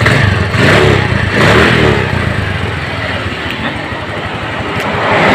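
The engine of a carbureted automatic scooter runs after carburetor service: loud and close, with throttle blips that swell and fall back toward a steady idle.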